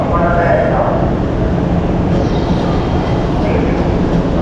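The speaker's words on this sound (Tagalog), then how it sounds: "So meron ng train, mga kaingat." A train pulls in at a rail line near Monumento heading toward SM North, a loud, steady rumble and rolling clatter that fills the whole moment while people talk over it.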